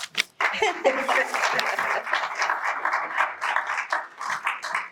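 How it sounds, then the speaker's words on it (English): Audience applause at an Oklahoma community convening welcoming Afghans, a steady patter of clapping from a seated crowd lasting about five seconds, with a voice briefly audible at the start. "It's okay to applaud."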